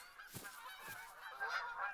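Geese honk repeatedly as a flock arrives at a spread of about 20 decoys during a hunt in theHunter: Call of the Wild, with overlapping calls that build from moderate to loud near the end.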